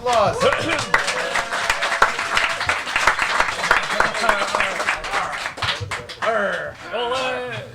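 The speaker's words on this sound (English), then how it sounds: "Come on, applause." Audience applause and clapping at a team presentation, loud and sustained with dense overlapping claps, while voices talk and call out over it.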